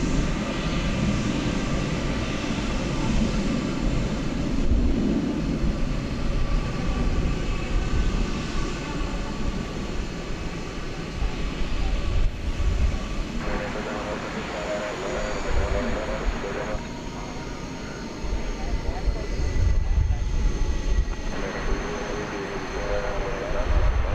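Airliner taking off at DFW Airport at night, heard from the terminal buildings: a sustained distant jet engine roar that rises and swells unevenly throughout, with faint background chatter.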